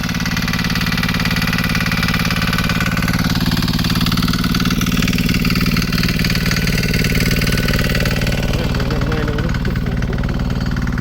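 A loud diesel engine of a walking tractor with lug wheels chugs steadily at close range, a constant low throbbing rumble with no break.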